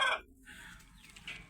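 A rooster crows on a goat farm: one short, loud call at the very start, then fading into a quieter background of farmyard noise.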